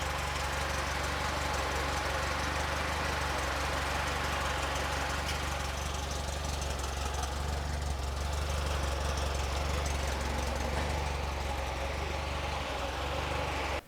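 A restored 1951 Willys Jeep engine idles steadily and smoothly, a continuous close mechanical hum with a faint knock running unbroken throughout, with no talking.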